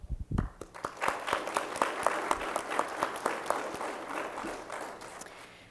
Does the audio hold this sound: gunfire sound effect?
no